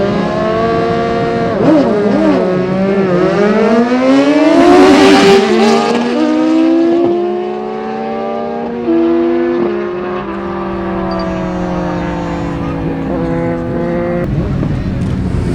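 Street motorcycles under 800cc at a street drag race during Bíladagar 2025, engines screaming up through the gears with overlapping rising and falling tones, loud and close, briefly surging near the middle.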